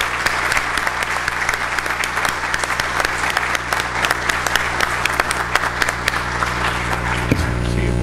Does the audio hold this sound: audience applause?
yes